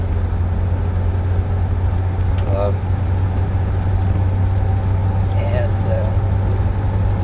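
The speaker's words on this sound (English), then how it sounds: "I love traffic on the interstate" Interstate highway traffic drones continuously from inside a moving vehicle, a steady low road rumble with a couple of faint tonal chirps partway through.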